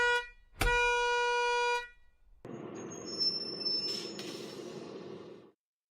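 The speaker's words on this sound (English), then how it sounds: "Bittu heard the honking of his school bus" A school bus horn sounds in one long, loud, steady blast, followed by the bus rumbling close by with a hiss of brakes or air.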